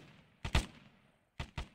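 Gunfire from soldiers engaging enemies in the Arma military video game: two quick shots in close succession, a short lull, then another pair of sharp cracks, each fairly loud with a brief tail, no talking.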